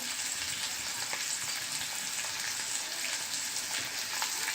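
Ingredients with grated fresh coconut and cumin sizzle and fry in a pan while being stirred, a steady close crackling hiss with faint scraping, no voices.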